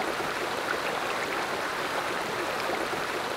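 A mountain stream flows in the Ossau valley of the Pyrenees, a steady broadband rush of water that stays even and continuous throughout, with no voices.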